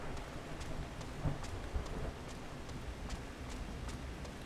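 Steady rain with rumbling thunder in the video game Final Fantasy XIV, a soft continuous hiss with faint low rolls and scattered drip-like ticks, no voices.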